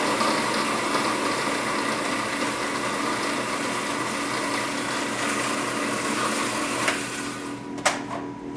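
A food processor gives ingredients for basil meatballs a quick chop, a steady dense whirring motor drone running throughout, then a couple of brief clicks as it stops.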